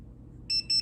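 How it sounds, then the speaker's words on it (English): A temperature probe on an HVAC manifold gives a crisp high double beep, two short electronic tones in quick succession after a moment of near silence. "You can hear the double beep, and then you get the fast yellow flash"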